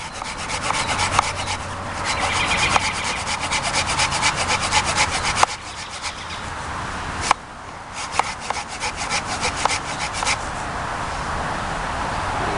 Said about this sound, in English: Sawing completely through a piece of wood about this thick is a little difficult.